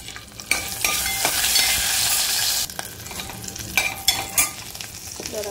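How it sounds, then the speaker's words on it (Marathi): Whole spices (green chilli, cloves, black pepper, bay leaf, cardamom, cinnamon) crackle and sizzle in hot ghee for a Kolhapuri white rassa, a steady close frying hiss with sharp pops and spoon stirring, no talking. "आता पांढऱ्या रश्श्याला फोडणी करूया."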